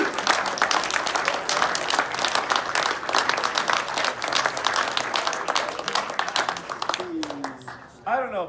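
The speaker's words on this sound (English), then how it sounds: "Please give a round of applause to the many" Applause and clapping from an audience at a film premiere fill several seconds and then thin out, followed by a voice.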